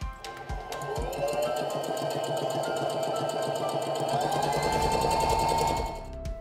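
A SINGER Denim sewing machine runs a straight stitch at a moderate length setting, with a close, steady whirring motor and rapid needle clatter whose pitch rises slightly as it speeds up, then stops.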